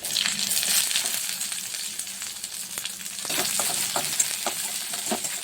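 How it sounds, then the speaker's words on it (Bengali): Chopped onions with panch phoron, dried red chillies and garlic fry in hot oil for a lentil and jute-leaf dish, a steady close sizzle broken by scraping stirs and small clinks. "পেঁয়াজটা একটু ভেজে নিতে হবে"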